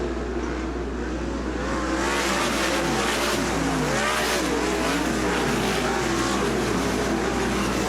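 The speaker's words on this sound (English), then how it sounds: "Out of corner number 4, we're going to go green, and Mitchell Viceno gets the party restarte" Sprint cars on the Sunset Speedway Park dirt oval roar as they accelerate on a race restart out of turn four, a loud pack of engines with rising, overlapping revs sweeping past.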